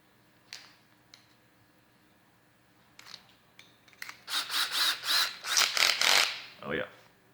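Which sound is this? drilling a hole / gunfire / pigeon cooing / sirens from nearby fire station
drilling a hole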